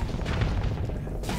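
A weapon hit explosion in the space combat game Starsector, heard as a dense low booming rumble that stays loud and sustained for the whole moment.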